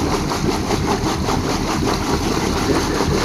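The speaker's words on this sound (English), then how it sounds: "Starboard engine getting hit, and that fired right up as well." Starboard Yanmar marine diesel on a 2001 34-foot Luhrs boat running at idle right after firing up, a steady, close, throbbing rumble with no pauses.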